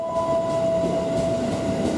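A 12-car KRL commuter train rumbles loudly through Sudirman station, a steady mechanical roar with a sustained high whine over it.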